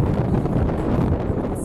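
Wind blowing across an outdoor football pitch during a tournament match, a loud, continuous low rumble buffeting the microphone with no clear breaks.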